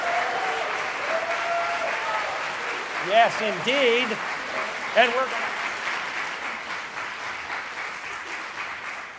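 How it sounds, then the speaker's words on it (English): A concert audience at a UCLA Wind Ensemble and Symphonic Band spring concert applauds in a steady, dense wash of clapping that fills the room, while a voice speaks briefly over it. "So they deserve a round of applause for the dedication that they have."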